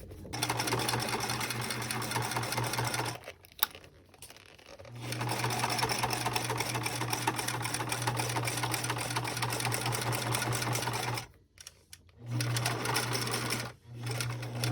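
A sewing machine stitching a seam in stiff vinyl for a project bag, running in long steady bursts with a few brief stops, close and continuous.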